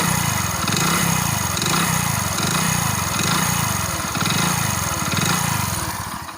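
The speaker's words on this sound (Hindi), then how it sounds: "ये इसमें पिस्टन का आवाज़ है" A Hero Splendor Pro BS4 motorcycle engine with an engine-noise fault, its piston clattering steadily while the motor runs close and loud, throbbing in a regular rhythm with slight rises in revs.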